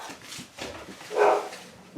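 A single dog bark or yip sounds from nearby, short and moderately loud, amid faint room noise in an indoor crafting setting.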